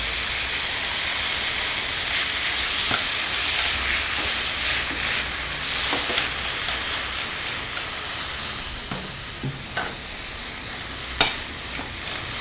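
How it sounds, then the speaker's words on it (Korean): Seasoned glass noodles for japchae sizzle and hiss in a hot pan while being stir-fried, loud and close, with intermittent scraping and tossing strokes and no talk. "당면 양념해 놓은 거를 살짝 볶아주세요"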